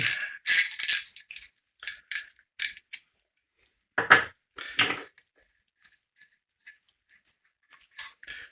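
Clicking ratchet and metal tool sounds while bolts are tightened during camshaft fitting on a GT40 engine build, several quick bursts of clicks in the first few seconds, then sparse scattered taps and ticks.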